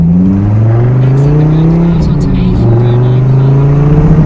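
A cold car engine drones loudly and steadily at low revs with a deep hum, while a person talks over it.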